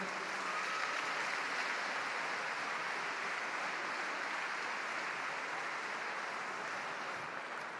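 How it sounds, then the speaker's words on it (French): A crowd at a cesta punta final applauds the young players with sustained, even clapping that stays faint and distant throughout, no voices on top. "On peut les applaudir"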